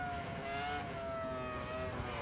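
A race car engine at the Detroit Belle Isle time-attack holds a steady, droning, high-revving tone with the throttle feathered. It sounds sustained and moderately close, with a slight pitch drift and no talk.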